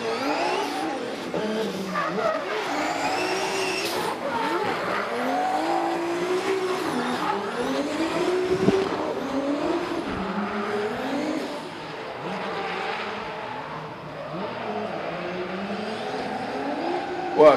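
A 900-horsepower drift car makes a qualifying run at a pro drift championship at Baypark Stadium, its engine revving and wailing continuously while tires squeal through the drift, loud and sustained for the whole run with crowd ambience behind.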